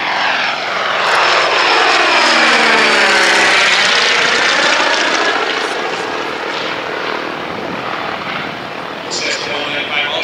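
A Cessna 195A Businessliner, an all-metal aluminum four-seat piston plane, flies past with a loud propeller-engine drone that swells as it approaches and then fades as it moves away; a voice talks over it.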